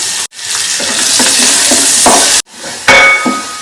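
Five shallots hiss in hot ghee left over in the pan, a loud, steady, close sizzle. It breaks off sharply twice and resumes, with faint stirring taps mixed in.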